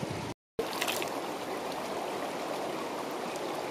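A clear stream in Glacier National Park flows with a soft, continuous rushing babble, near and even, briefly cut to silence near the start.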